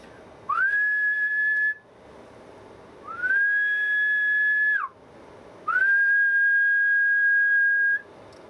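Three sustained whistle tones, each lasting about one to two seconds with a quick pitch rise at the start, are fed into a 45-watt 70 MHz transverter, a radio transmitter, for testing. The tones are steady and clear, with short pauses between them.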